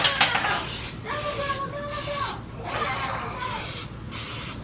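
A cooking spray can hisses in two long bursts over a muffin tin, close and fairly loud, with short pauses between sprays and a quieter spritz at the start.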